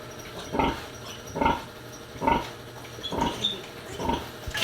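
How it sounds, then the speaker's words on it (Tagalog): A farm sow in heat grunts and squeals over and over, each call coming at a steady rhythm about a second apart, fairly close and moderately loud over a low background of farm noise, with no talking. "nagpapadid po pala uli yung baboy ni mama"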